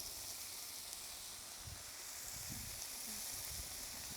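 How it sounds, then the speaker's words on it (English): Four strips of bacon sizzle on a Blackstone griddle, a steady hiss of frying fat with soft pops and crackles throughout, without talking. "This bacon's going to get a nice little sizzle going."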